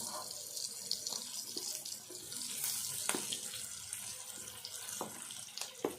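Tap water runs steadily into a sink while green chillies are rinsed, a continuous hiss with occasional splashes and small knocks, fairly close, with no voices over it.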